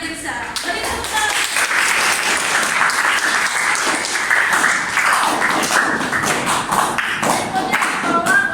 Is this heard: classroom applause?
yes